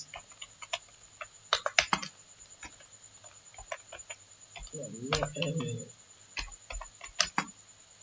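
Keys on a computer keyboard are tapped in scattered bursts of quick clicks, faint and close, with a brief stretch of speech partway through and a steady high electronic whine behind.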